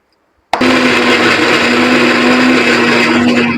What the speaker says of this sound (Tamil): இப்போ பார்த்தீங்கன்னா நான் தேங்காய் சட்னி தான் அரைக்க போகிறேன்